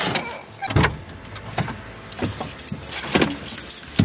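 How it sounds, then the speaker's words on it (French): Car keys jangle repeatedly in a series of bright metallic clinks around a car, close and fairly loud, with no talking. "Mes clés de voiture"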